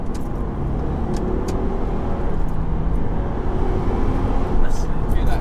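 A Subaru car engine's low, steady exhaust rumble runs throughout, close and continuous, with faint voices underneath.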